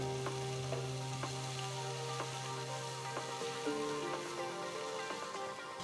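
Finely chopped garlic, ginger and green chilies frying in hot oil in a pan give a faint, continuous sizzle with light ticking pops beneath a low steady hum.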